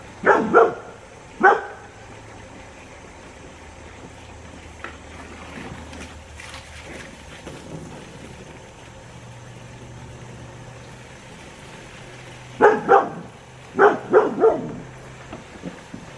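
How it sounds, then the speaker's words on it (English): A farm dog named Polly barks outdoors at night: a pair of sharp barks at the start, a long quiet stretch with faint background noise, then a quick burst of several more barks near the end. "Polly sure does bark a lot."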